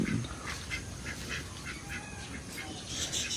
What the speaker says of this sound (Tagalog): Andito rin po ang aking mga alagang Peking duck